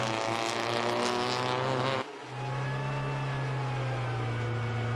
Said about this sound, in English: as the cars roll on around to the grid.